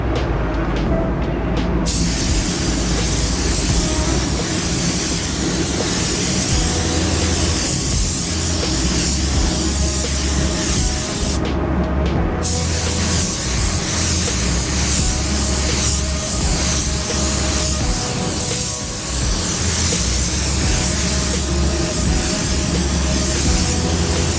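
A spray gun lays down coverage coats of paint in a continuous loud hiss that runs nearly the whole time, with two short pauses early on and a low rumble underneath.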